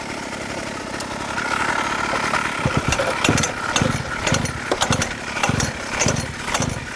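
A small mini motorcycle engine cranks and catches, then idles unevenly with repeated revving bursts close by, while a person briefly shouts.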